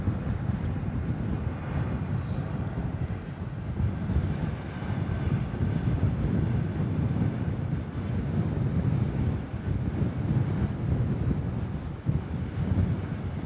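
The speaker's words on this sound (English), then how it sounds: "Nicely done by that Pegasus Neo. Awesome landing." A Pegasus Airbus Neo airliner lands at Manchester Airport in strong gusty wind, a steady broad engine roar mixed with wind buffeting on the microphone, sustained and fairly loud throughout.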